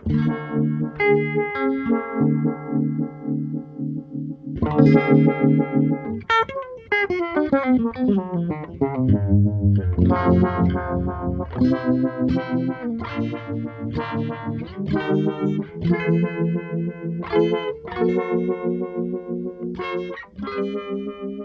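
Distorted electric guitar riffs run through a heavy modulation effect set to high speed and full intensity, the notes warbling and pulsing throughout with no talking.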